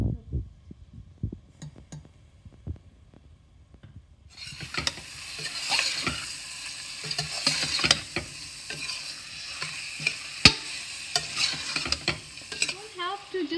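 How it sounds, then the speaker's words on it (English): Tomato paste frying in a pan for a channa and meat curry, with a few quiet clicks and taps at first, then a steady sizzle with spoon scrapes and knocks as it is stirred. "I just stir it 2 times and it's good"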